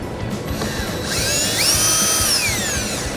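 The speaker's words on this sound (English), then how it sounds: "We'll go ahead and take our 8mm socket" An 8mm socket ratchet works loose screws on a 2013 Ford Escape near the bumper fascia, a quick run of close mechanical clicking with a brief whirring, gliding tone over it and no voices.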